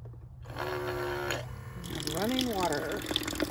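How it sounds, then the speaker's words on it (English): Water runs from a hand-operated faucet in a camper conversion of a 2014 Dodge Grand Caravan, fed from an onboard 12-gallon tank. It is a steady close pour, and voices and tonal sounds are mixed in. "running water."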